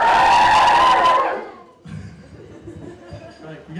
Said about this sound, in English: A cheer from all the women in the audience.